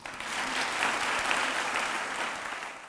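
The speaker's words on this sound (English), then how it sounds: "Please give them another round of applause to Alyssa Tam, Grace Potter, Kennedy Hervey," Audience at an awards ceremony breaks into warm, sustained applause, a dense wash of clapping that swells and slowly tapers over a few seconds, with no speech on top.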